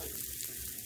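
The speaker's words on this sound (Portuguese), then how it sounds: "Eu deixei aquele fritando bastante." Seasoning frying in a pan before rice is added, a soft steady sizzle with faint crackles heard up close.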